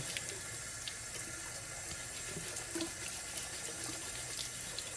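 Water runs steadily from a tap, splashing as a grungy single-sided Edison Diamond Disc record is rinsed under it, a continuous close hiss with faint handling knocks and no talk.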